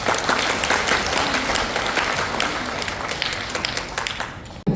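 Audience applause fills a hall at a political party convention, a dense burst of many hands clapping steadily for several seconds before stopping abruptly.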